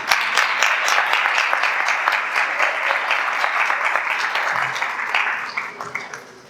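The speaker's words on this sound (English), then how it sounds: "Please run on up here for our sponsor message and give them a round of applause." A breakfast event audience applauds sponsors with sustained, dense, fairly close clapping that holds steady for several seconds before fading out.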